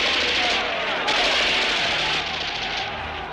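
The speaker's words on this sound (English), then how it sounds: "Lay down covering fire, Sergeant." Sustained burst of gunfire in a war film battle scene, dense and continuous for the whole span, with shouted voices mixed underneath.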